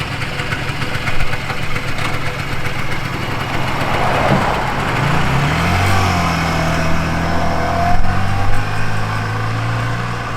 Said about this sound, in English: Well, there goes the Messerschmitt.